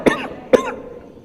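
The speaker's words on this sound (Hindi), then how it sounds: "खांसी मुझे चल रही" Two sharp, close coughs from a man, about half a second apart, each a harsh burst followed by a short fading rasp, with no speech.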